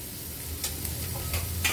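Garlic paste, ginger paste, chopped onion, cloves, cardamom and cinnamon frying in butter and oil for fried rice, giving a quiet, steady sizzle with a few soft stirring scrapes and no talking.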